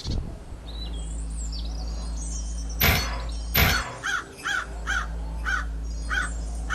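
A large crow in the Aveyond: Gates of Night game caws in a run of short, harsh calls, a couple of louder sharp bursts followed by rhythmic caws over a steady low game hum.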